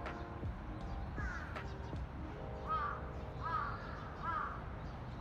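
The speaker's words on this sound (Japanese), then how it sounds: "カラスさん帰るわな。" Several crows caw in short bursts at a shrine precinct, Nishinomiya Shrine, the calls fairly distant and spaced out over steady background noise and faint voices.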